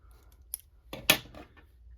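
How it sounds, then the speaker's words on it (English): Scissors snip through crochet yarn in a quiet room: a light click followed by one crisp, close cut, with no talking. "I'm going to cut my yarn"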